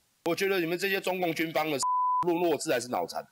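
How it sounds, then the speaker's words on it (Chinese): A single steady censorship bleep, about half a second long, masks profanity in a heated Mandarin political talk show. Loud male speech surrounds it on both sides. "那个哔哔的声音就是《三字经》，然后我们必须把它哔掉"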